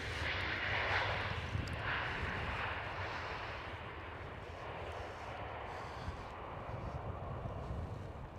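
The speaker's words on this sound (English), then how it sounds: "737 landing." A KLM Boeing 737 lands at Amsterdam Schiphol, giving a steady broadband jet roar that is loudest at the start and then holds, continuous and fairly close, with no talking.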